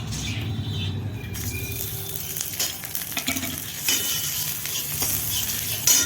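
Spices crackle and sizzle in hot ghee in a kadai, a steady bright frying hiss with a few pops and stirring scrapes.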